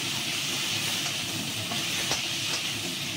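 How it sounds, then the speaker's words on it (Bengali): Flowers sizzle as they are stirred and fried in a pan, giving a steady, even hiss that stays constant from start to finish with faint scraping at a few points. "ফুলগুলো এর সঙ্গে একটু নেড়ে ভেজে নেবো।"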